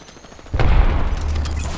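Gunfire bursts out in Apex Legends after a quiet lead-in, a loud close volley of shots with a booming low rumble that lingers and fades, no voices over it.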